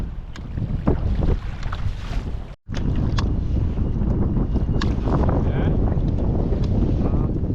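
Steady wind buffets the microphone with low rumbling gusts on open water while trout fishing, broken by a brief dropout and occasional knocks.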